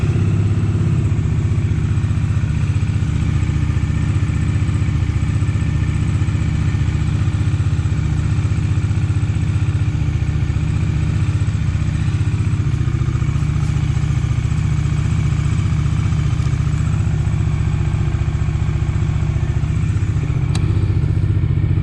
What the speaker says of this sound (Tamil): Double barrel exhaust கொடுத்துருக்கனால engine noise வந்து நல்லா பேஸாக நல்லா லவுடாகவே இருக்குது.